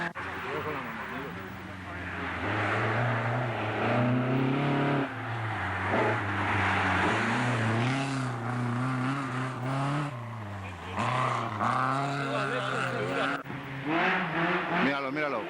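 A Subaru rally car roars past at a roadside rally stage, its engine note rising and falling with revving and possible tire noise, loud and sustained throughout, while spectators talk and shout nearby.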